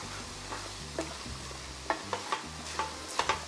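Spices including adobo, sazon, cumin, coriander and black pepper stirred in a pot for Puerto Rican pastel al horno, a low faint simmer broken by a handful of soft, sharp spoon taps and scrapes.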